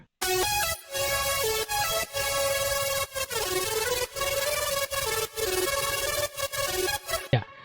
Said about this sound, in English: So when the depth is high, you can hear the shutter type sound from the LFO.